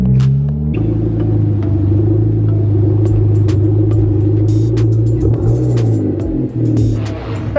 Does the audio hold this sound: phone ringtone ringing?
no